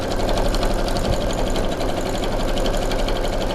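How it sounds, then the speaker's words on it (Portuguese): A sewing machine runs continuously, stitching all the way around a zippered pouch with an inner and outer pocket, a steady rapid mechanical whir close up with no talking. "Voltei da máquina, passei a costura na volta inteira"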